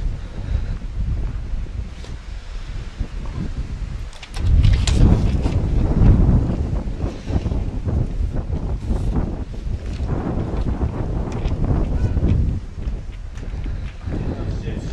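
Strong gusty wind buffets the microphone at a windy outdoor tennis match, roaring in low rumbling surges that swell loudest in the middle, with a commentator's voice faintly beneath.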